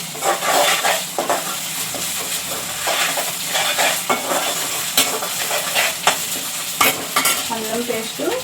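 Onions and ginger paste fry in a pan for chicken fry while a spoon stirs and scrapes them, making close crackling sizzle broken by repeated sharp utensil knocks against the pan.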